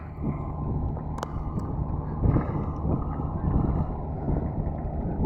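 Steady low rumble of a ship at the Campbell Bay port, with wind buffeting the microphone and a brief metallic clank partway through; no voices.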